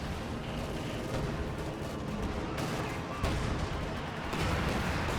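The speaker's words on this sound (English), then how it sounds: "he has actually artillery, which is doing some nice shots" Dense, continuous battlefield barrage of artillery and gunfire from Company of Heroes 2, steady and loud throughout with heavier blasts near the middle and end.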